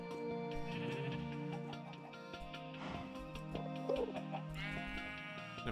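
Minecraft sheep in the Stoneblock modpack give a few faint, wavering bleats over a steady background of game music and ticking, all fairly quiet.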